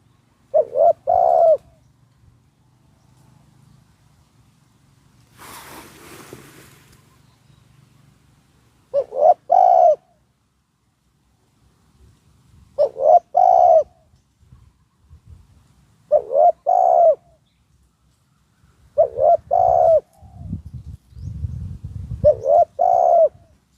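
A trained spotted dove gives short cooing phrases, each a rapid cluster of soft notes, repeated about five times at intervals of a few seconds. Faint rustles and a low murmur fill the gaps.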